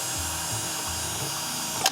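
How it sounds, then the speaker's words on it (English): A power drill whirs continuously at high speed while boring a hole to fit an LED bar graph in a toy wand, a dense mechanical buzz that ends with a brief sharp scrape. "I drilled a hole."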